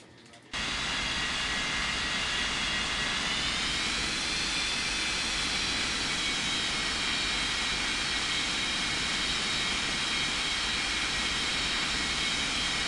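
Steady jet engine roar of an airliner taxiing in the Unmatched Air Traffic Control mobile game, a Boeing 737 or Airbus A320, sustained and loud from start to finish with a constant hum.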